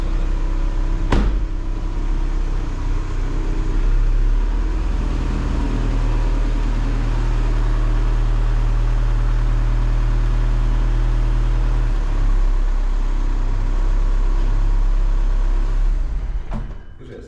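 Skoda Superb 2.0 TDI (170 hp, DSG) running strapped to a dynamometer, a loud steady diesel drone with deep stable tones, a sharp click near the start and another near the end, the pitch dropping slightly partway through.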